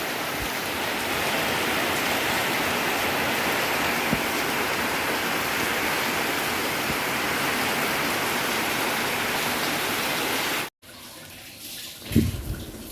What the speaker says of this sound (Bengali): প্রচণ্ড বৃষ্টি হচ্ছে হয়তো ক্যামেরাতে ঠিক মতো দেখা যাচ্ছে না